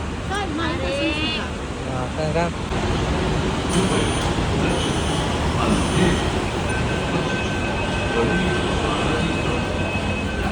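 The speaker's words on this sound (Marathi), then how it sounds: "आम्ही आता दहिसरसाठी ट्रेनमध्ये बसलो आहे" Steady rumbling and rattling of a moving train carriage bound for Dahisar, with people chatting nearby at first over the continuous broadband noise.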